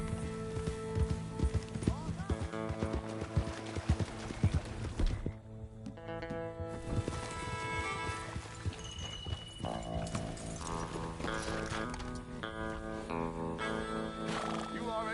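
Hooves of a galloping horse clip-clop in Red Dead Redemption 2, with neighing and whinnies rising over music and character voices.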